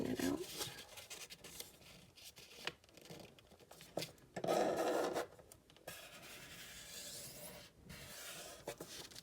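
Paper folded by hand into an envelope, with soft rubbing, creasing and scraping strokes in short bursts and a louder crinkle midway, close up, while a person talks over it.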